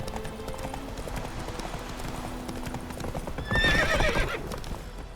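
Geralt's horse Roach in The Witcher 3 clip-clops along at a steady walk, then lets out a loud, close whinny, with soft ambient game sound underneath throughout.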